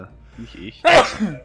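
A single sharp sneeze bursts out right after a few quiet spoken words, loud and close, followed by a brief trailing voice.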